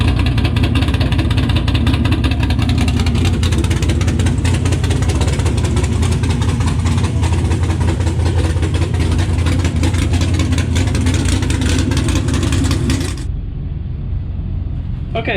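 Drag racing car engine warming up, a loud continuous rumbling idle with throaty pulsing that runs steadily for about thirteen seconds, then drops to a lower, duller drone near the end.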